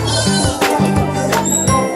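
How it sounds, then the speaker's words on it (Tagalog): A large crossbred goat bleats repeatedly at a livestock market in Padre Garcia, loud and close. Several wavering calls come in quick succession, with faint jingling behind them. "Napakalaki na kambing po nito."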